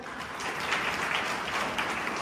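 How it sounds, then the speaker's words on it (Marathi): An audience claps in appreciation at a village birthday gathering, a continuous, even wash of many hands applauding, moderately loud and steady without voices over it. "एकदा टाळ्या वाजून आशीर्वाद द्या बघा त्यांना"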